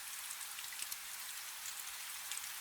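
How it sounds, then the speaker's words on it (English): Soft rain falling on a roof at night, a faint, even hiss of drops with tiny scattered taps, continuous and unbroken, with no voices. "the rain has gone soft against the roof"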